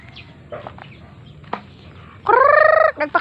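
Chickens clucking softly at close range, followed by a loud, drawn-out squawking call and a few short clucks to finish.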